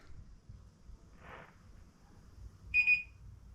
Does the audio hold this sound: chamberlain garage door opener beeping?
yes